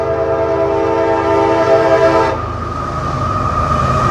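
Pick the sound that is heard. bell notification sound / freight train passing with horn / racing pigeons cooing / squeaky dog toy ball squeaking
freight train passing with horn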